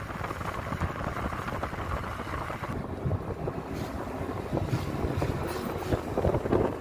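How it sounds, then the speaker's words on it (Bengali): Wind blowing across an open outdoor spot at night, a steady broad rush with microphone buffeting, gusting slightly louder toward the end, no voices. "বাতাসের শব্দটা যেমন আমার কাছে অনেক ভালো লাগে"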